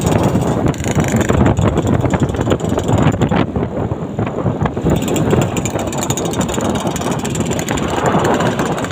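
A Yamaha RX-King motorcycle engine runs under test in a village on an afternoon, giving a steady, loud, continuous rumble for the whole stretch, partly buried in heavy wind buffeting on the microphone, with no talking.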